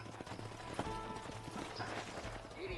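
Horses in the video game Red Dead Redemption clop along with faint rhythmic hoofbeats under ambient game sound, quiet and somewhat distant.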